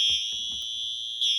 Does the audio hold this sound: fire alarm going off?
yes